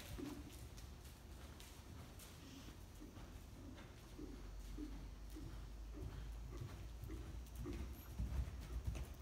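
A horse's hooves thud steadily on the ground during a jumping lesson over bounce fences, a soft repeated clip-clop under faint outdoor ambience with no clear talk.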